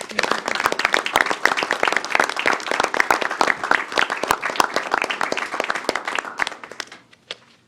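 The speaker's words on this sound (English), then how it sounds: "Let's give these parents a round of applause." An audience at a school board of trustees meeting gives standing parents a round of applause: brisk, lively clapping from many hands that stays strong, then fades out near the end.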